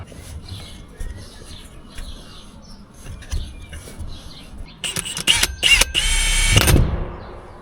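Quiet background with faint chirps, then a power drill whirs in several short bursts into a plastic tank, followed by a longer, louder grinding run before stopping abruptly as the bit snaps.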